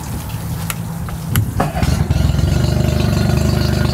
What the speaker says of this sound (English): Here, I'm gonna start up the engine.